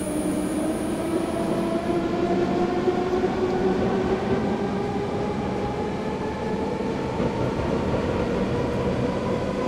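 A BR 420 electric train in Train Simulator 2015 on the German route from Tutzing to Munich runs with a steady rumble of wheels on rails and an electric motor whine that slowly climbs in pitch as it speeds up, with no voices.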